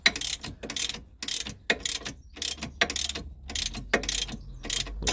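An 18 mm spanner ratchets off front suspension bolts in rapid bursts of sharp clicking, about ten close, loud strokes separated by brief pauses, with no voices.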